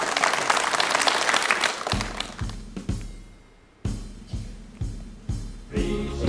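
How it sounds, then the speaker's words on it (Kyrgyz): A television quiz show's studio audience applauds loudly for about two seconds, then the clapping stops and a series of separate hollow thumps and knocks follows at irregular intervals. "кол чабуулар."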